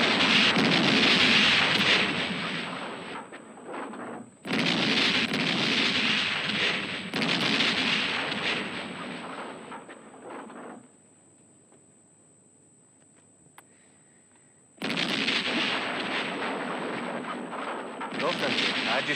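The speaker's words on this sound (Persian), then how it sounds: "با این خرج انفجار تا فردا بارون خاک داریم" Mine blasting explosions sound as long, heavy roaring booms, several in a row, with a quieter gap partway through before more loud blasts follow.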